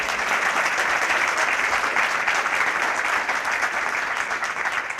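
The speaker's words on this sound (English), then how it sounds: "Would you like to spontaneously applause" Audience applause fills an honorary doctorate award ceremony hall at Kyoto University, a steady dense wash of many hands clapping at an even level throughout, without voices.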